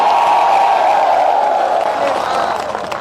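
Crowd at a political rally in Madhya Pradesh clapping and cheering, a dense, loud wash of applause that carries on throughout and slowly eases toward the end, with a voice faintly audible beneath.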